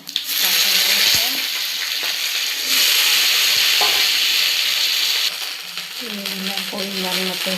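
Sliced okra sizzles loudly in hot oil with dried chili, cumin seeds and green chilies in a home kitchen pan, a steady bright crackle with stirring clatter and brief utensil knocks, fading as a voice speaks near the end.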